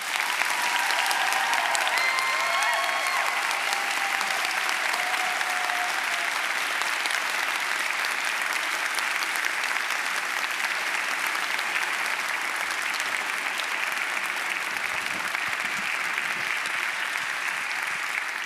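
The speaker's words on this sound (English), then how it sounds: "Okay, you can stop clapping now." An audience gives author TJ Klune a long, loud burst of applause. The dense clapping holds steady from start to finish with no voices over it.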